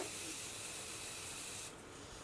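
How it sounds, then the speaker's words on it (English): A close, broad hiss of makeup setting mist sprayed from a pump bottle, steady for nearly two seconds before dropping off to a faint residual hush. "This is their baking spray. It's just their makeup setting mist."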